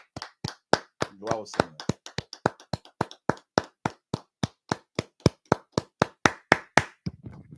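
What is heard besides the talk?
applause and clapping for the speaker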